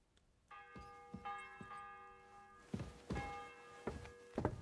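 Church bell tolling in the video game Kingdom Come Deliverance 2, sustained ringing tones struck several times with dull thunks and footsteps around it, moderately distant and quiet.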